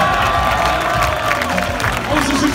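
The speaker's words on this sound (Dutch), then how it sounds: "En ook Ronnie geeft ze een groot applaus!" Outdoor crowd of supporters gathered at the front of a parade float applauds and cheers steadily, a dense continuous wash of clapping and shouting with voices mixed in throughout.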